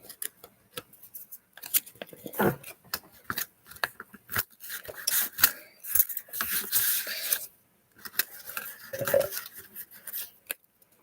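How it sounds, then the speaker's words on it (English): Large scissors trim a metal charm craft project, giving a series of close, sharp irregular snips separated by short pauses, with no voices. "Should actually be using a smaller pair of scissors, but oh well."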